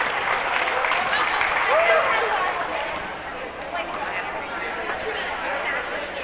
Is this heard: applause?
yes